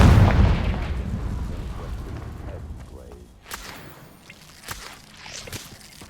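A Confringo blasting spell explodes in a wizarding video game with a loud opening boom that rumbles away, followed by scattered sharper cracks and debris noises.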